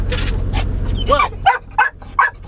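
A dog barks and yips in several short, loud bursts close by, with whimpering notes between them and a person's voice briefly heard early on.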